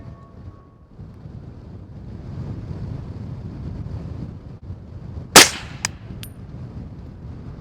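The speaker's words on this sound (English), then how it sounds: "Whoa, that's a rough wind." Rough, gusty wind buffets an outdoor microphone in a steady low rumble, broken by one sharp loud crack and a couple of fainter snaps late on, with no talking.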